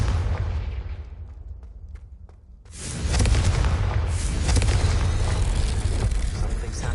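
A Confringo fire spell from Hogwarts Legacy bursts as a loud explosive boom, then a dense roaring rumble carries on for several seconds, close and heavy.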